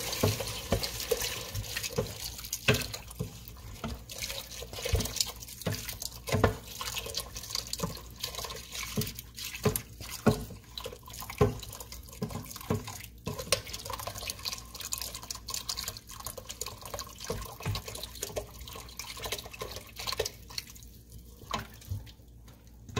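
Fat-free fresh milk pours into a very large pot in a home kitchen, a steady close liquid stream with dripping and splashing that runs alone for over twenty seconds.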